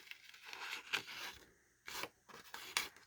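Paper label being cut with scissors for a farmhouse miniature, heard as a few short, close snipping and rasping bursts separated by quiet gaps.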